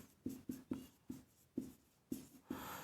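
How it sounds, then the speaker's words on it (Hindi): A pen writes by hand on paper, tapping and scratching in about eight short, quiet strokes with an uneven rhythm, close by and without talk. "मैं पूरा लिख देता हूं आपके"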